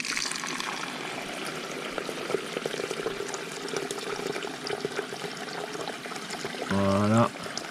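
Water flows through a U siphon on an outdoor aquaponics tank in a continuous, moderate trickle and gush that runs steadily throughout, with a brief tonal sound near the end.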